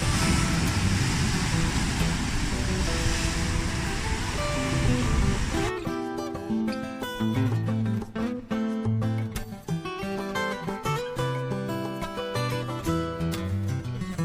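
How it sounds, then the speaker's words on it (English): Ocean surf at Playa Cocles beach in Costa Rica, a broad loud wash of breaking waves for about six seconds before music takes over. "apparently it's here where you can have the most strongest waves in whole Costa Rica"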